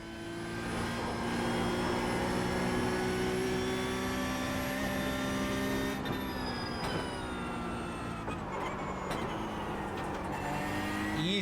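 A race car engine in a Nürburgring endurance racing game holds high, steady revs. It drones continuously and loudly throughout, with no talk over it.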